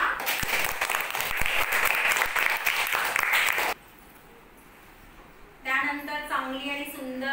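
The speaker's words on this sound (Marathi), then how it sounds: "टाळ्या वाजवा." Classroom applause for a prize winner at a Children's Day celebration, a few seconds of loud, steady clapping from many hands that stops abruptly, followed by a quiet pause and then a voice speaking.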